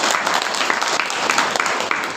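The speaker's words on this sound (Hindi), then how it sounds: "ताली बजा दीजिए।" Indoor audience applause, a dense burst of clapping from many hands that stays loud and steady for a couple of seconds.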